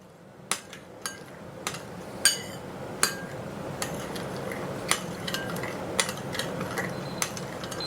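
Spices being mixed together in a bowl for drunken noodles, heard as a series of sharp, regular clinks of a utensil striking the bowl, roughly one or two per second, close and fairly quiet over a low background hum.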